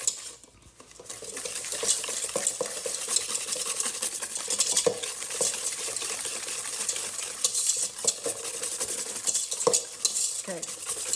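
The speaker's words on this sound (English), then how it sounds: "we are going to whisk this together" Whisk beating brownie batter thick with sugar in a bowl, a continuous close wet stirring with rapid scraping of metal against the bowl and occasional sharper clinks, no talking.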